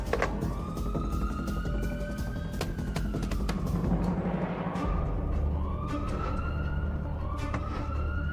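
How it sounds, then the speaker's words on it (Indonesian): Ambulance siren wailing continuously with rising and falling tones over loud traffic and vehicle noise, fairly close and prominent throughout. "Kami kirim ambulans sekarang ya."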